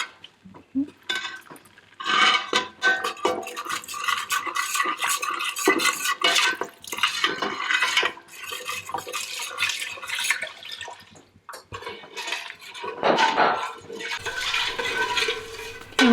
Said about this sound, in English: And we're going to add 2 cups of milk.